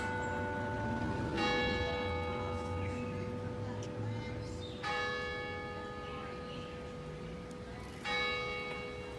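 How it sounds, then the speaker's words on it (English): Church bells ring out clearly, three separate struck peals each leaving long, bright, ringing tones that slowly fade, set against a soft background murmur. "There was this clip of church bells"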